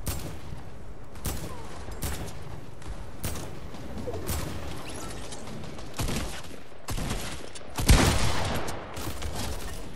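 Dual pistols firing in Fortnite Team Rumble, a busy run of sharp shots in bursts alongside other distant gunfire and game effects, with one louder blast near the end.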